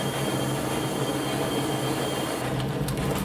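Overheating train sound from the game Unrailed, a dense continuous mechanical rattling hiss with a low droning tone underneath, loud and unbroken for over three seconds, no talking.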